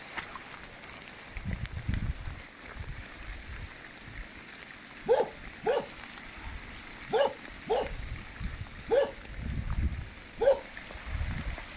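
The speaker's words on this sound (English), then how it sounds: "Old Fred's barking now." Several sharp dog barks spaced a second or two apart, moderately distant, over a steady background hiss of heavy rain in a village.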